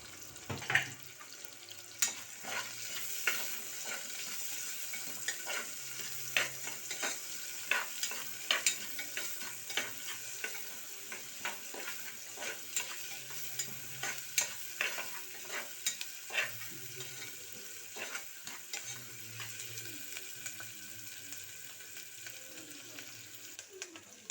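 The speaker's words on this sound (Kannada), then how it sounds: "ಮೂರು ಒಣಮೆಣಸಿನಕಾಯಿ ಒಂದು ಹೆಚ್ಚಿದ ಈರುಳ್ಳಿಯನ್ನು ಹಾಕಿ ಫ್ರೈ ಮಾಡಿ" Three dried red chillies and a chopped onion frying in oil, a soft continuous sizzle under frequent sharp spoon scrapes and taps against the pan, fairly faint and steady, with no talk.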